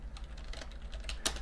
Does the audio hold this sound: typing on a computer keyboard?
yes